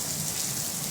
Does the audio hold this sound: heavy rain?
yes